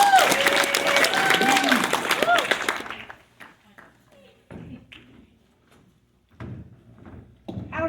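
An audience at a closing event claps for a staff member, with dense applause for about three seconds that then breaks off into scattered thumps, clicks and brief voices.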